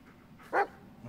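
A single short dog bark from the video game Blair Witch, heard at moderate distance against a quiet, hushed background.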